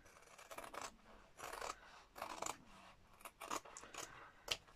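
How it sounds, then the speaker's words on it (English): Scissors snipping through paper to cut out a butterfly shape, a run of close, crisp cuts in short irregular bursts with brief pauses between, fairly quiet, no talk. "I need to cut the butterfly."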